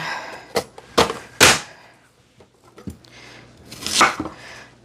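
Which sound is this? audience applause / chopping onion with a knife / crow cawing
chopping onion with a knife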